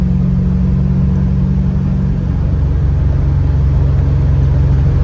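A 1987 Ford Mustang with a 5.0 engine while driving: a loud, steady low rumble heard from inside the car, with a slight shift in engine note midway, no talking.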